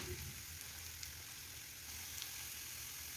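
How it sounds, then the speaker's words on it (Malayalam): Ginger roasting in a pan for a sadya-style puli inji curry, a faint, even sizzle with a few light stirring ticks, heard close and alone. "ഇളക്കി കൊടുത്തിട്ടൊന്ന് മൂപ്പിച്ചെടുക്കാം"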